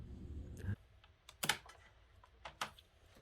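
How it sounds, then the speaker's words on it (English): Close keystrokes on a rubber dome keyboard with a PS2 connector: a few soft, muted clicks spaced irregularly after a brief low rumble, fairly quiet overall. "The keyboard feels amazing for its rubber dome switches."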